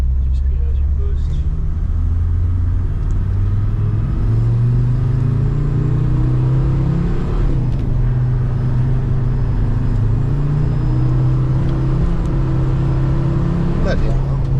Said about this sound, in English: With a mechanical pump OM605 or 606, it's normally pretty clattery, but this is not at all.